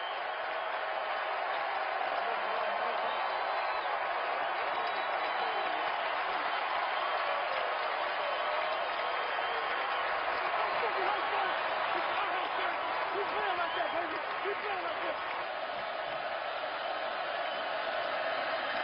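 A football stadium crowd roars as the final seconds of the first half run out, a continuous broad rumble of thousands of voices that holds steady throughout, with a commentator talking over it.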